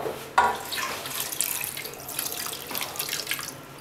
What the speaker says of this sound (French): On va mettre, disons, un verre d'eau.